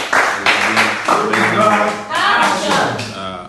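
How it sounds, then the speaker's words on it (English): A few people in a live broadcast studio clap in quick, uneven strokes while a voice talks over and between the claps. "Let's continue to clap for Tunde Ednot on Instagram"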